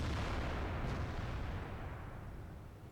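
A single deep artillery gun blast in the video game World of Tanks, loud and close, followed by a long rumbling decay.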